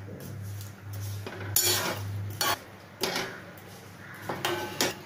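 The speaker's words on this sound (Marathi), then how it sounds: "हा गूळ नीट विरघळवून घ्यायचा, पण उकळायचं नाही" A metal spoon scrapes and clinks against a pot as jaggery is stirred into water to dissolve it, with several sharp knocks over a low steady hum.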